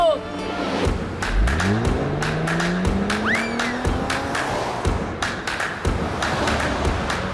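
A cartoon car speeds across London Bridge with a rising engine whine, screeching tyres and skids, loud and busy, mixed with sharp clicks and scattered effects.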